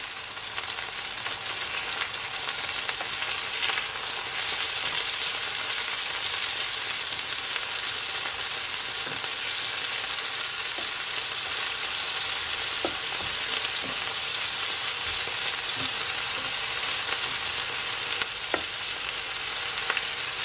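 Browned chicken pieces fry in a pan for chow mein, giving a dense, constant close-up sizzle with a few faint pops scattered through it. No one talks.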